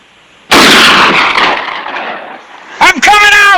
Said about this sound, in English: All right, McQueen, hold your fire